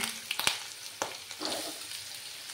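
Diced new potatoes sizzling in a frying pan, with a few sharp clatters as they drop in and are stirred, then a steady soft crackle of frying.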